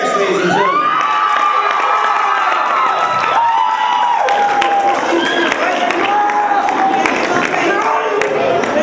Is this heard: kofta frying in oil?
no